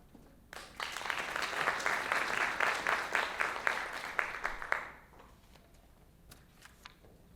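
Crowd applause at a graduation ceremony, a steady burst of many hands clapping for about four seconds before it fades into quiet room tone.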